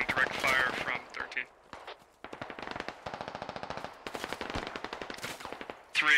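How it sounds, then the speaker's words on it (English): Gunfire and incoming rounds in the video game Squad Ops: rapid bursts of machine-gun fire crackle in quick repeated strings at moderate distance, mixed with scattered single shots and impacts, with voices talking over the shooting. "Rounds are landing all around here."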